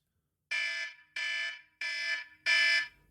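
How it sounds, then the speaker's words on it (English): Podcast timer alarm going off in four loud, bright electronic bursts, each about half a second long with short gaps between them, sounding alone with no talk. "I have my alarm, which will sound like this."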